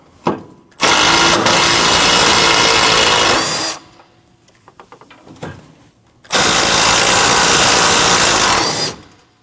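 Power tool whirring loudly in two long bursts with a short gap of lighter clicking and ratcheting between, removing the two 8mm bolts holding the coolant reservoir on a 2012-2021 Nissan NV2500.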